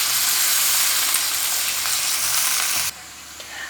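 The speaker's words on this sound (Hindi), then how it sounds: "अब उसी ऑयल में हम आलू डाल देंगे और आलूओं को भी तकरीबन 2 से 3 मिनट तक हम आलूओं को भी फ्राई करेंगे" Cubed potatoes fry in hot oil in a home kitchen pan, a loud, dense, continuous sizzle that drops noticeably in intensity toward the end, with no one speaking.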